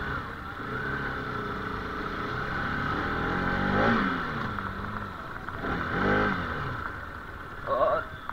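Motorcycle engine revving outside the Don Bosco School entrance in Lumding on Christmas Day, a medium-loud buzzing drone that swells in two rising pulses and a final short burst, amid crowd murmur.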